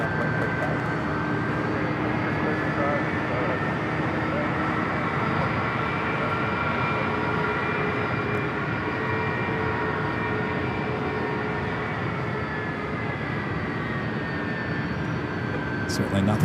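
A distant ANA airliner taxis toward the gates at LAX's Tom Bradley terminal, giving a steady, far-off jet engine drone with a faint whine that holds level throughout.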